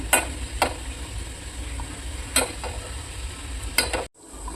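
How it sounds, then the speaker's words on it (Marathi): Modak dumplings frying in oil over a medium flame, a steady crackling sizzle with a few sharp utensil clinks and taps, close by and without talk, cut off abruptly near the end. "मिडियम फ्लेमवर आपल्याला हे मोदक आहेत ते तळून घ्यायचे आहेत"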